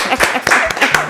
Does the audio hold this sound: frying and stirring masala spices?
no